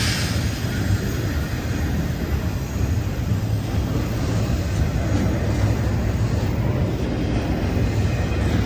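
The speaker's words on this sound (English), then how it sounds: "This DPU unit marks the second helper engine I've encountered on an intermodal train today" An intermodal freight train with a DPU helper locomotive rolls past in Greenville, South Carolina, a steady, dense low rumble and roar of wheels and cars that holds evenly throughout with no break.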